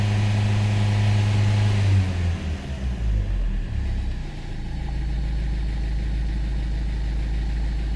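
A car engine, being checked for an engine warning light fault, idles steadily, rises in pitch and settles at a higher steady speed of around 3,000 RPM, loud and close with no talking.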